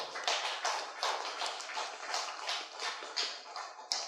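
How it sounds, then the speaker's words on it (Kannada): A small audience claps for a few seconds, the claps sparse and uneven and then fading, fairly quiet and close, with no talking. "ಅವರಿಗೆ ಒಂದು ಜೋರಾದ ಚಪ್ಪಾಳೆ ನೋಡೋಣ"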